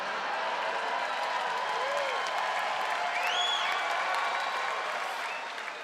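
Steady audience applause at a comedy special, a dense wash of clapping from a large crowd with a few faint whoops, holding level throughout before easing slightly at the end.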